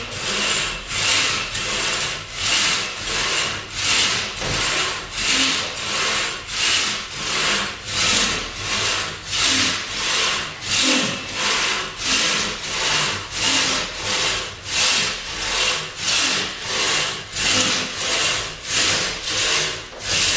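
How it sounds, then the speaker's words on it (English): A freshly sharpened, repaired bucksaw cuts through wood in long, even strokes, a loud rhythmic rasp repeating roughly every second for about twenty seconds with no talk. "a movie to show how the bucksaw works after I got it fixed up and sharpened"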